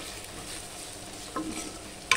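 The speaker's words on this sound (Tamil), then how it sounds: "ஸ்டவ் மிதமான தீ வச்சு கலந்து விட்டுக்கணும்" A spoon stirs spice powders in a pan over a medium flame while field-bean curry is being made. It sounds like a soft, steady scrape with a faint background sizzle, plus two brief, sharper scraping clinks near the end.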